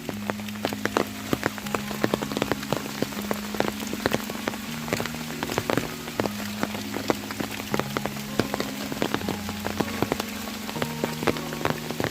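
Heavy monsoon rain falls in the Konkan countryside, a dense steady patter of drops hitting surfaces with sharp close splashes scattered throughout, under a faint low hum and with no talking.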